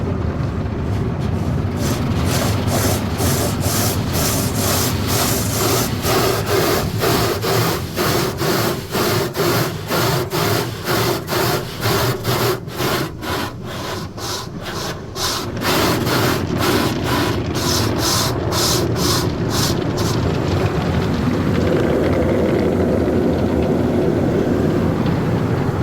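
Spinning rollers of an automatic car wash scrub the lower sides of a car, making a loud, steady brushing roar with fast rhythmic slapping that runs through most of the stretch.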